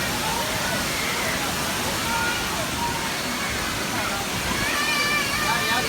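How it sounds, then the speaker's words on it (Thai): Waterfall at Huai Luang in Ubon Ratchathani, Thailand, a loud continuous broadband rush of falling water filling the scene, with voices talking faintly beneath it. "ดูดิมีน้ำตกด้วยเห็นไหม"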